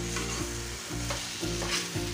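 Egg kothu parotta being stirred with salna in a hot pan, a dense close sizzle with rhythmic scraping strokes recurring roughly every half second.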